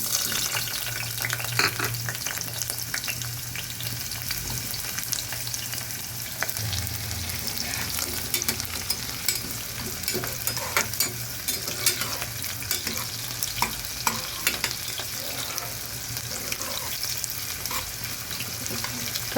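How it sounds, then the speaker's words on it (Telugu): Onions fry in hot oil in a pan for an aloo beans curry, a dense continuous sizzle with crackling pops and occasional stirring scrapes, close and steady throughout. "ఆయిల్ హీట్ ఎక్కిన తర్వాత ఆనియన్స్ వేసుకుందామండి. ఇప్పుడు ఆనియన్స్ వేద్దాం."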